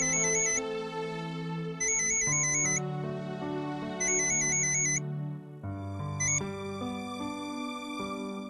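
Phone ringtone playing while a call is placed in a Marathi TV serial, a repeating electronic melody in bursts with short gaps, clear and steady with no speech.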